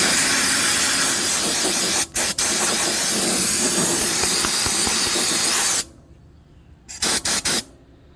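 A sandblaster with a small nozzle sprays air and blasting media against pitted rust, giving a loud continuous close hiss with two short breaks. It cuts off and then returns in a few brief, sputtering bursts.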